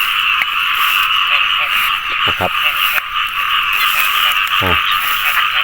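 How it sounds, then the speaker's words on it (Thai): Frogs croak after heavy rain in a steady, dense chorus, with repeated nearby croaks standing out over the continuous background calling. Someone speaks briefly. "เสียงกบเป็นดีใจ"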